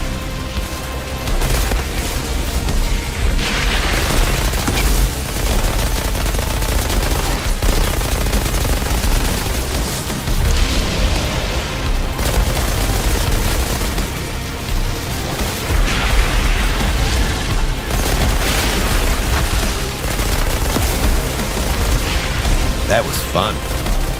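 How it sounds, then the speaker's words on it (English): A homing firestorm weapon mod tears into enemies in a video game, a continuous roar of gunfire, booms and crackling blasts that pulses in intense waves for over twenty seconds while a voice talks over it. "It summons a violent and homing firestorm to deal damage and inflict an extra crispy burn on enemies."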